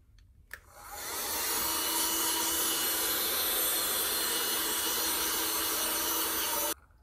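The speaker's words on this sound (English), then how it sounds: "I highly recommend you have a hand vac" A small USB rechargeable desktop hand vacuum switches on with a click, whirs up, and runs at a steady high-pitched whine for several seconds before cutting off abruptly.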